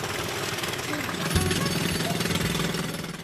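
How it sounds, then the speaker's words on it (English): A construction jackhammer drills continuously near a holiday hotel in Morocco, a loud, steady rapid pounding that fills the whole stretch without a break. "we really couldn't bear the sound of the drilling"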